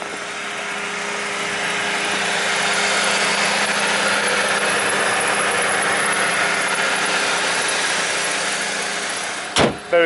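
A used Mercedes CLC engine idles steadily under an open bonnet, a close, even hum and whir holding for about ten seconds, cut off by a couple of brief knocks at the end.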